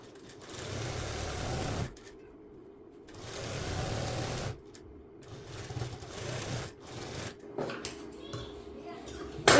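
A sewing machine stitches the side fitting seam of a blouse in short bursts of rapid whirring, stopping and starting several times, while someone talks in Hindi between and over the runs.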